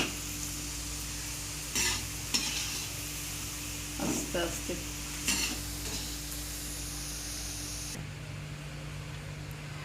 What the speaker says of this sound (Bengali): এবারে আমরা তেলে এটা ছাঁকছি।